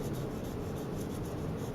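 Steady graphite pencil shading on paper, strokes following facial contours while drawing skin, a continuous close scratchy rubbing that runs without pause and with no voices.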